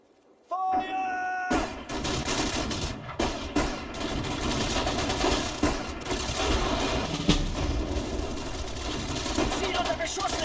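Battlefield gunfire in the strategy game Sudden Strike 4 during Operation Market Garden, a sudden onset of machine-gun bursts and single shots with heavy thuds, continuous and loud, with shouted voices over it.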